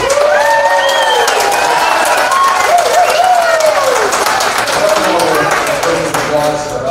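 Crowd at a county planning and zoning meeting claps and cheers loudly and continuously, with raised voices and whoops carrying over the dense applause.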